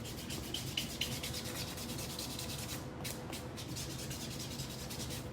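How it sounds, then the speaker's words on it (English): A file smooths the surface of a glittery dip-powder fingernail with quick, even back-and-forth rasping strokes, close and continuous, with a brief lighter pass partway through. "I want to give the glitter finger just a little extra smoothing out"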